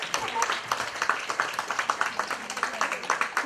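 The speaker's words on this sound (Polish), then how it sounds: "Brawa dla dziewczyn." An audience at a school event claps in a rhythmic, steady beat, sharp regular claps repeating roughly a few times per second, with voices audible over and among the clapping.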